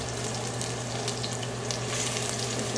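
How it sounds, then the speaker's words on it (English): Onions and garlic sautéing in a little hot oil for egg sauce, giving a steady, close, even sizzle with a faint low hum underneath, no voices. "Just let them saute a little bit."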